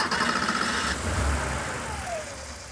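Modified 1972 Mini Cooper Clubman engine idling low while cold, a steady muffled rumble heard close up with a faint whine gliding down near the end.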